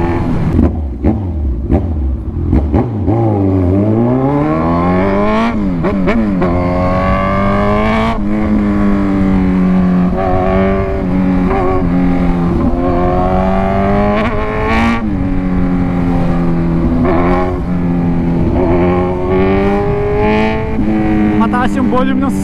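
Suzuki GSX-S GT 1,000cc motorcycle engine heard loud and close while riding, with engine pitch climbing and falling through gear changes and sustained steady cruising tones; a voice talks over the engine throughout.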